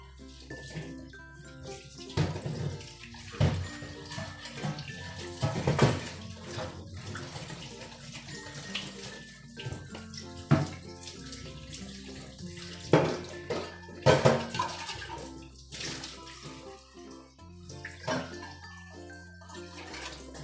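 Water splashes and pours in uneven bursts, with scattered louder sloshes and drips over a steady background, like dousing from a container while bathing.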